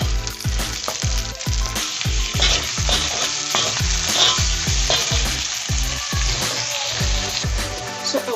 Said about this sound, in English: I'm going to fry onions